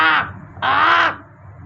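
A person mimics a crow's caw, giving two harsh, nasal cawing calls in quick succession, loud and close, the second longer than the first, with a quiet room behind.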